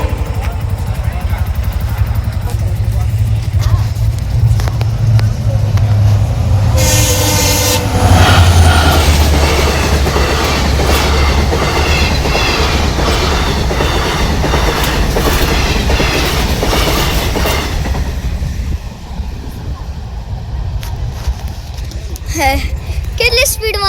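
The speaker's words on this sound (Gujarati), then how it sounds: "ફાટક બંધ છે તો અમે લોકો ઉભા રહ્યા છીએ અને આવે છે ટ્રેન" A train rumbles past close by at a closed level crossing in Sanand, Gujarat, with a horn blast, steady clickety-clack of wheels and some squealing, while people talk nearby.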